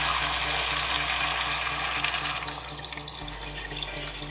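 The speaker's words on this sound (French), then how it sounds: "Et là, je vais mouiller avec de l'eau chaude." Hot water pours steadily into a cooking pot over meat for a rice couscous dish, a continuous close gushing splash that softens slightly toward the end, with no speech.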